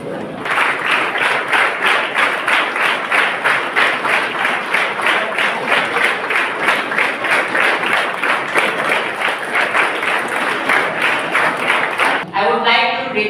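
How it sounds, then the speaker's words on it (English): A standing audience applauds at a ceremony honouring a physician, steady loud rhythmic clapping from many hands throughout, ending abruptly with a brief burst of talk at the close. "Can you all please stand up and applaud"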